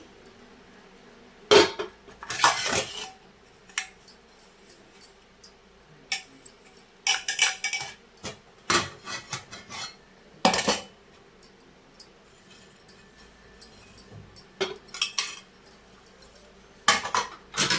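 Oiled metal idli plates clatter and clink as they are stacked one by one into a steamer, with irregular bursts of sharp metallic knocks separated by quiet gaps, close and fairly loud.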